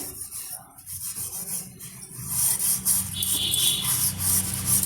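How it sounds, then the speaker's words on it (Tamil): Brass pooja vessels scrubbed firmly by hand to lift off oil, giving a rough, rasping rub that starts softer and then turns steady and louder, close up with no talking. "அது மாதிரி அழுத்தம் கொடுத்து தேய்க்கும் போது தான் அந்த ஆயிலெல்லாம் சீக்கிரமாகவே க்ளீன் ஆகிட்டு வரும்"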